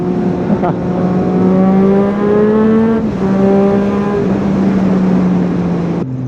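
A 2017 Triumph Street Triple S with an aftermarket exhaust drones steadily and loudly with a rich, throaty note, rising slightly in pitch with brief shifts, heard up close while riding.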